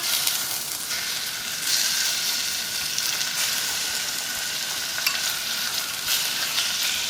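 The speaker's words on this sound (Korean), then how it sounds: "이 우삼겹은 기름이 많은 부위라서 그냥 이렇게 볶으셔도 돼요" Fatty beef brisket sizzles and crackles steadily as it is stir-fried in a pot in its own rendered fat, with occasional scraping stirs, close and continuous throughout.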